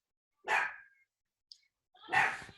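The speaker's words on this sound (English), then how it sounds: "I'm sorry if you guys can hear my dog." A dog barks twice close by, each burst loud and rough with a short faint click between them, and no other sound around it.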